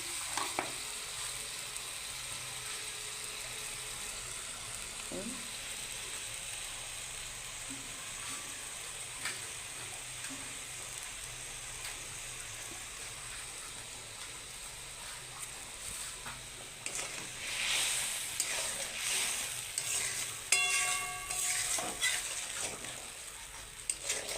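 A pan of fish curry, Bengali mach er jhol, bubbles and sizzles on the stove in a steady soft hiss, with a few clinks and stirring noises near the end.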